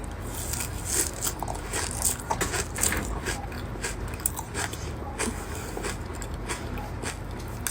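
Close crunchy bites and steady chewing of a pistachio marshmallow cookie with cocoa and butter, with repeated crisp crackles over several seconds and no talking.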